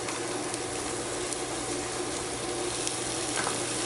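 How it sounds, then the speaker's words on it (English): Carrot, celery and onion sizzle in a hot pot for chicken and dumplings, a continuous, even hiss of frying close by with faint stirring. "I'm going to go ahead and start putting in my veg, my carrot, my celery"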